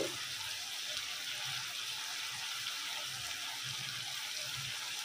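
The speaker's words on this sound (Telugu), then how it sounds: "మెంతికూర, చిన్న చిన్న ముక్కలుగా కోసుకుని శుభ్రంగా కడుక్కోవాలి." Chopped fenugreek leaves are washed in water, with faint, soft sloshing and gentle splashes that come in irregular small pulses against quiet background hiss.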